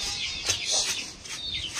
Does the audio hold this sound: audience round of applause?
no